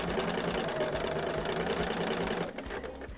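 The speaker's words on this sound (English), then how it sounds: "So let's get this side sewn on and we will get going here." A sewing machine runs steadily, stitching quilt pieces together, a continuous close mechanical whir that eases off near the end.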